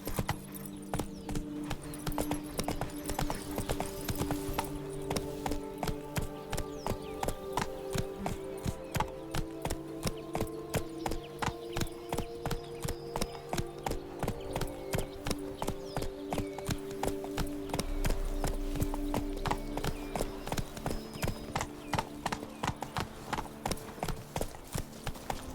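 Roach the horse galloping in The Witcher 3, a fast steady rhythm of hoofbeats that runs throughout, loud and close over game music, with no talking.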